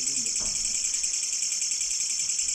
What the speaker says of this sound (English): but it's the sound of these insects. Listen to how loud it is.